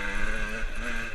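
An enduro motorcycle engine hums steadily while being ridden gently on a countryside trail ride in Dordogne, a close, continuous mid-pitched drone with slight throttle variation.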